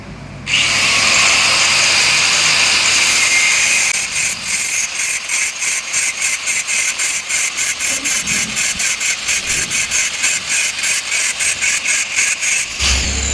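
Electric scooter battery pack being cut open with a power tool: a steady loud whine for about four seconds, then a long run of rapid rhythmic pulsing bursts as the tool works through the casing, close and alone.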